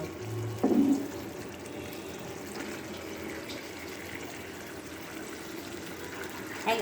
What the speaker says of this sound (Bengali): এই যে এক কাপের মতন পানি দিচ্ছি এটাই দেব